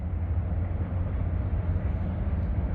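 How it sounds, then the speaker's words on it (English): Train rolling past by a river, a continuous low rumble and rattle holding steady throughout at moderate distance. "then we're just gonna watch the train go past the tripod"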